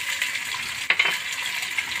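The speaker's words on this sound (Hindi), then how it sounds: "इसको मैं 1 मिनट के लिए भूनूँगी।" Masala frying in a pan for kadhi pakora, a soft steady sizzle throughout with a brief clink of a utensil against the pan near the middle.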